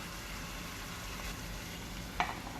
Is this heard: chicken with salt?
yes